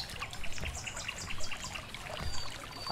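Steady trickling and gurgling of river water in a medieval RPG video game, a soft continuous wash with faint bird chirps over it, heard at low level.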